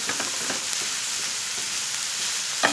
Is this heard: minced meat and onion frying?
yes